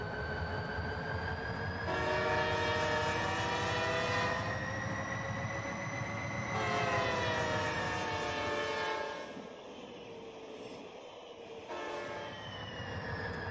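Repeated long, loud horn blasts from a diesel freight train with a caboose and black exhaust smoke in the city-building game Cities: Skylines, sounding over a steady rumbling rail background with no talking.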